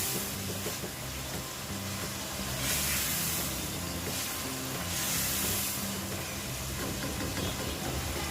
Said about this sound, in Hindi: इसको अब हम फ्राई कर रहे हैं।